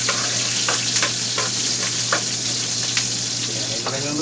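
Onion and garlic sautéing in hot oil in a pan for adobo, a loud, steady sizzle with light scraping and stirring knocks throughout.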